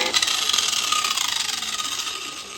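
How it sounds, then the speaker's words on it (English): A cheap Harbor Freight angle grinder runs on a custom steel off-road bumper for a Ford Excursion, a loud close high-pitched whine with a rough grinding rasp, steady throughout. "This is the cheap Harbor Freight grinder."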